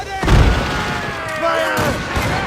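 Ship cannons firing in Assassin's Creed Rogue: a heavy, deep boom near the start, then a second lower blast about a second later, over a sustained battle din.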